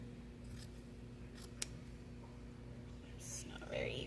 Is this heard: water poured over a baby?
no